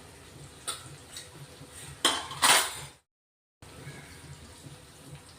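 Chili powder and garam masala are stirred in a pan on a home stove, giving a few soft scrapes and metallic clinks of a spoon against the pan, close and intermittent, with a short gap of silence.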